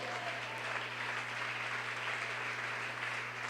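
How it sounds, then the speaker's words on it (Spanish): A church congregation applauds during a sermon, a steady, dense wash of clapping that holds evenly throughout beneath a constant low hum. "Un aplauso para Cristo."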